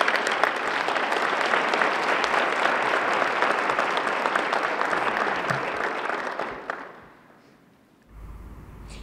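Sustained, loud crowd applause at a United Way gathering celebrating volunteers, dense and continuous for about seven seconds before dying away, with a low rumble at the end.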